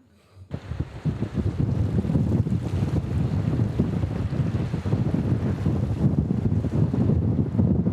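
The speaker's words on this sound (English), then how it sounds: "Tried to step outside. It's very windy," Strong, cold, wet wind buffets the microphone outdoors in the Scottish Highlands, a loud continuous roar with gusty low rumbling that begins abruptly after a brief quiet moment and keeps going throughout.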